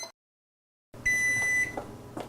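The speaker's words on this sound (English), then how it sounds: "We'll set our alarm and we're ready to go." Kitchen timer being set, a brief silence followed by a steady electronic beep tone lasting about half a second, with small clicks and handling noise afterward, close and clear.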